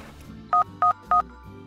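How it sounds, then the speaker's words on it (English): Three evenly spaced phone keypad tones beep as a card number is entered for a phone payment, over a quiet background hum, each short and steady. "pay by entering your card number on your phone keypad"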